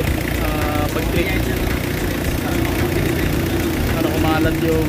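A Mitsubishi Adventure engine idles steadily after warm-up, a continuous mid-low mechanical hum with a fault of throttle delay and vibration, running alone without pause throughout.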